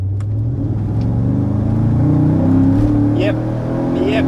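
A Mercedes SL55 AMG engine revs up on kickdown, a mid-pitched drone rising in intensity, with brief voices in the background.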